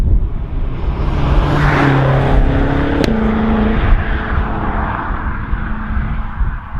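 BMW M5 with the twin-turbo S63 V8 engine on the move, giving a steady, loud engine drone heard from the cabin with rising and shifting engine tones throughout.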